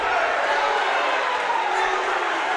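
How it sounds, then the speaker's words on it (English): A gym crowd at a PIAA boys basketball semifinal roars in a steady, loud, hissing wash of cheering and noise that holds for the whole stretch. "Crowd's back into it after a slow start."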